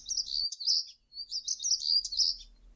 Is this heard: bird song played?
yes